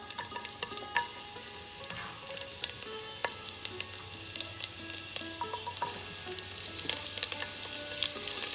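Mustard seeds, whole peppercorns and sliced garlic fry in hot oil in a pan, giving a soft steady sizzle dotted with sharp little pops and crackles, close but fairly quiet, with no voices.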